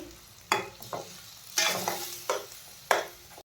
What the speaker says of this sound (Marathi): आता आपण यामध्ये घालूया टोमॅटोची प्युरी याला आपण छान फ्राय करून घेणार आहोत